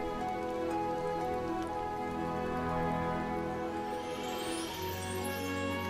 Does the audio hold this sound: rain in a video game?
yes